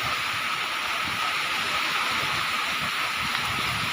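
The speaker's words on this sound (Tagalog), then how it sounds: "Yun yung ulan noon." Steady rain falls, making a constant dense hiss that never lets up, with no voices.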